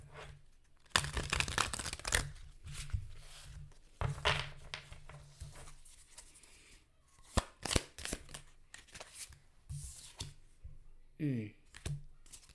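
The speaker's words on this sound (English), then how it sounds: "Let's get another shuffle." Rapid riffling and soft papery clicks of cards being shuffled, close by, in a few quick bursts with quiet talking in between.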